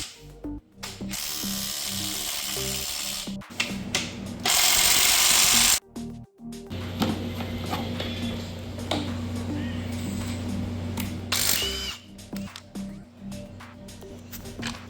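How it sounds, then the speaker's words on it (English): Hand tools clicking and ratcheting while removing the valve cover of a Honda CRF250R dirt bike engine: intermittent close ratchet clicks, metallic handling and bursts of louder rasping, with some low shop noise and no clear speech. "Taking the valve cover off now."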